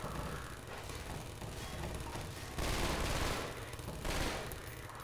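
Automated turrets fire in the video game Half-Life 2, with dense, rapid bursts of gunfire that keep going and swell louder in two short surges.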